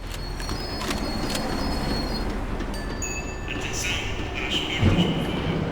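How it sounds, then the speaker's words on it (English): Rumbling tram from the video game Max Payne 3 slowing to a stop, a continuous low rolling drone with metallic squeals and clanks rising near the end. "The tram was slowing down, and I'd only just gotten on board."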